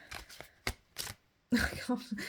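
Large tarot cards riffle and slap together in several quick shuffles, close up and crisp, with short pauses between bursts.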